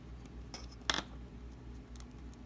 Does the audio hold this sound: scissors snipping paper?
yes